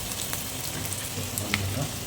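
Onions sizzling as they are tempered in a pan for mutton kudal kulambu, a steady close hiss with scattered crackles and pops running continuously, no voices.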